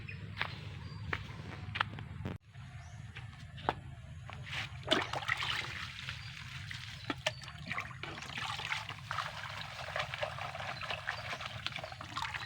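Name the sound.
washing rice plant leaves in water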